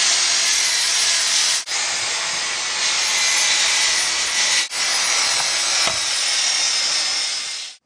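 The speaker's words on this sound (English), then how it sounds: "The grinder isn't working very fast" A grinder runs steadily over a slurry-coated surface, a loud, continuous abrasive hiss and rasp that barely dips three times as the tool shifts, then cuts off at the end; no voices.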